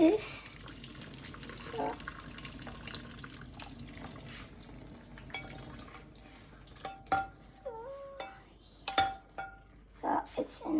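Water drains from a pot of cooked ravioli in a home kitchen, a pouring and splashing wash with clinks of the pot, while a person talks throughout.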